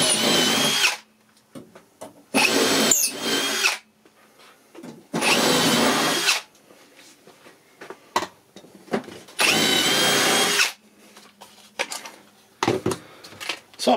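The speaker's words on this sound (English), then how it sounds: "and we're going to drill these holes." A cordless drill whirs loudly in several bursts of one to two seconds each, separated by short pauses with faint clicks and handling noise.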